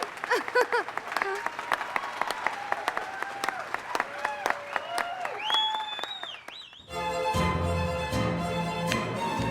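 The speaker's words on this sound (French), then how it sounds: "On l'applaudit bien fort." Audience applause greets a singer introduced on stage, a run of scattered claps under background voices and music, then band music takes over near the end.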